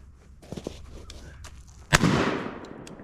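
An AR-12 shotgun fitted with a red dot sight fires one sharp, loud shot near the two-second mark, with a long decaying roar after it, and faint clicks and handling sounds come before it.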